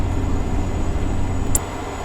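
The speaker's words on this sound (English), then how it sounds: "skip a gear, go directly into direct" A truck in American Truck Simulator hums along under steady engine drone after skipping a gear straight into direct, a continuous low rumble with a brief high blip near the end, no talk.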